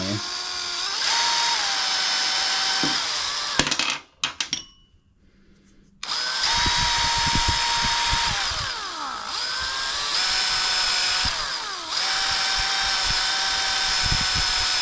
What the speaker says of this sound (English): just clean this up real good with a wire brush. You don't want any of that rust still on there.